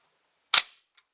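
A DPMS AR-15 rifle's bolt slamming shut as the bolt release is pressed, one sharp, loud metallic clack close by, then a faint small click just after.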